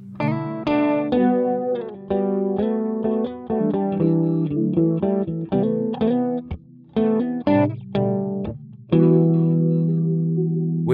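An electric guitar runs through the Neural DSP Multivoicer plugin in FL Studio with the reverb switched off, playing a choppy riff of layered, chorused, harmonized chords and short stabs, ending on a sustained chord.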